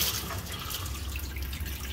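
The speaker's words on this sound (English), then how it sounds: "You can drain the tap" Water runs steadily from a tap in a caravan as the system drains, a continuous close hiss and trickle without pause.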